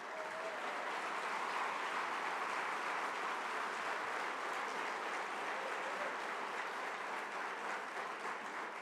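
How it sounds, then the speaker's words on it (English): Steady, fairly distant applause from an audience of veterans at the Nixon Library, even continuous clapping with no voices over it. "I want to give you all a round of applause"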